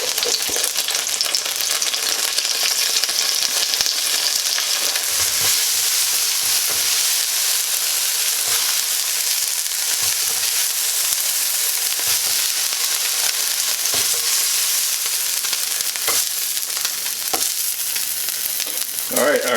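Beef fries in oil in a pan, a continuous bright sizzle with occasional stirring clatter, close and steady with no talk.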